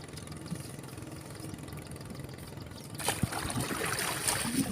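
A boat engine runs steadily on the Chao Phraya River during a net-fishing outing. It makes a continuous low rumble that swells into louder, rushing broadband noise partway through, with no voices.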